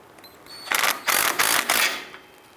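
Quick ratchet clicks in four short bursts as the lower shock absorber bolt is snugged up on the rear of a 2002-2012 Jeep Liberty, close and fairly loud with quiet gaps between strokes.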